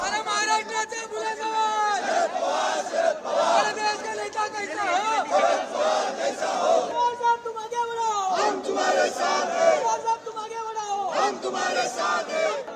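NCP party workers in Maharashtra celebrate noisily: a loud, continuous crowd roar of shouting and cheering voices with overlapping chants fills the whole stretch, no single voice standing out.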